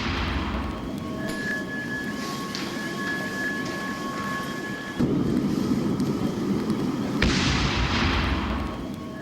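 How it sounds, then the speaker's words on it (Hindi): A continuous heavy roar with deep rumbling blasts from a missile attack on Kyiv, a sudden louder burst midway and another sharp blast a couple of seconds later; no talking. "तो ये देखिए धमाकों की आवाज,"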